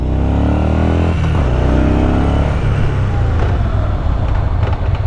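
A Yamaha SCR950 scrambler motorcycle braking hard into a skid, its ABS catching it, with a loud, steady engine drone and a falling pitch as it slows close by.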